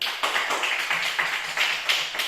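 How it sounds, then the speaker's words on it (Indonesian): A classroom group applauding during a lesson, a brisk run of close, steady hand claps lasting a couple of seconds. "Ya, tepuk tangan."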